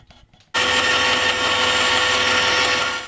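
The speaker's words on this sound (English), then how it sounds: "I'm going to cut this piece of wood to 8mm square section and then shave the edges off" A power tool cuts a piece of wood down to an 8mm square section, a loud, steady, high-pitched whine starting abruptly after a brief quiet moment and running continuously to the end.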